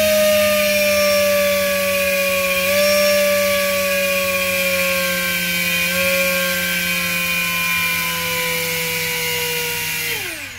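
An RC motor with propeller runs on a Lantian tester, a steady close whine with a slight step down in pitch every few seconds, then winding down sharply at the end.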